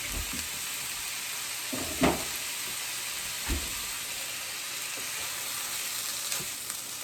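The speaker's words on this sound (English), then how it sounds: "I'm gonna let that fry just a little bit more until it's done." Hot dogs sizzle steadily in a pan after a small dash of soy sauce, a continuous close frying hiss with a few soft stirring bumps and no talking.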